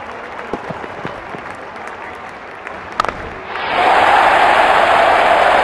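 Crowd in Real Cricket 19 swells into loud, sustained cheering and applause after a quieter stretch of ambient game noise with a couple of sharp hits, the roar holding steady to the end.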